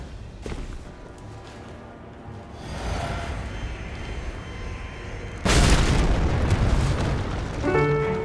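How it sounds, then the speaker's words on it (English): A loud explosion blasts in Elden Ring during an online invasion, a sudden broadband burst about two thirds through, with rumbling game ambience and sound effects before and after it. "I just exploded on nothing"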